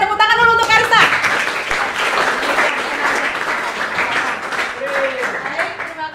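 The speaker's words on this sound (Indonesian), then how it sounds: "tepuk tangan dulu untuk Karissa" A classroom group clapping for a student named Karissa during a teaching session, steady and fairly loud, starting right after a speaking voice and carrying on to the end.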